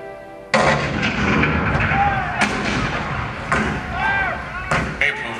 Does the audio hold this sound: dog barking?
no